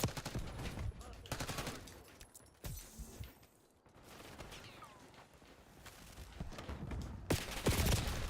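SMG fire in the Call of Duty Black Ops 6 beta: rapid bursts of automatic gunfire separated by short lulls, with louder volleys at the start and near the end.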